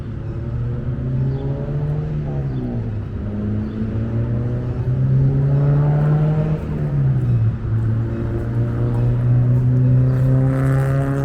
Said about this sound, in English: Right now, we're just going to watch the Bud cars come into the station.